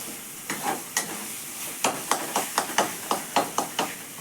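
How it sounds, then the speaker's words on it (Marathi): Masala roasting in oil in a pan for a fresh pigeon-pea curry: a steady sizzle broken by a run of sharp, irregular spoon scrapes and knocks against the pan, close and moderately loud, with no talking. "तीन चार मिनटं मी हा मसाला भाजून घेतलेला आहे त्याला आता तेल सुटलेलं आहे"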